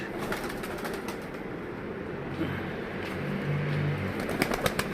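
Soft low cooing of pigeons outdoors, murmuring steadily beneath faint background traffic and birds, with a few brief flutters near the end.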